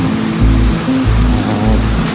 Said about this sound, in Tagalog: umuulan kasi dito